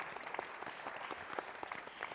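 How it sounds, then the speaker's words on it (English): Steady audience applause fills a university lecture hall at an event on Black architects, a dense, even patter of many hands that holds at moderate volume throughout without voices. "Yes, round of applause."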